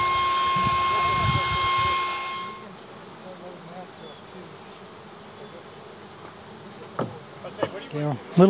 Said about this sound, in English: these bees are hitting it